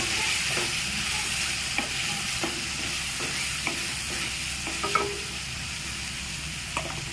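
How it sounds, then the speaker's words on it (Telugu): Milk goes into a sizzling pan of spice mixture with coriander powder for a turkey berry curry, then a spoon stirs steadily with soft scraping taps over a constant frying hiss. "ఇప్పుడు పాలు పోసేస్తున్నాను"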